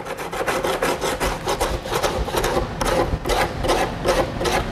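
Rhythmic hand sanding of fiberglass scrapes back and forth on the hard surface, a steady rasping stroke repeated roughly twice a second, close and without talk.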